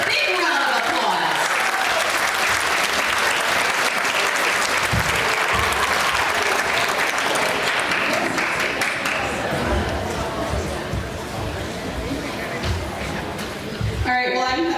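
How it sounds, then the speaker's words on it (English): Sustained applause from a crowd at an outdoor sesquicentennial town celebration in Tabor, South Dakota, with voices and chatter mixed in, easing slightly toward the end. "He gets a big round of applause."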